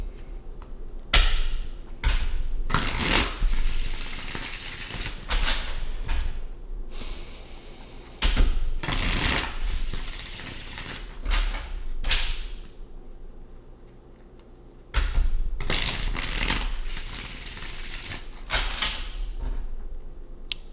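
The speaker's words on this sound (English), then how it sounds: "Do 2 shuffles." Tarot cards being shuffled by hand, a series of sharp riffling bursts and soft slaps in irregular groups, close and fairly loud with no talk.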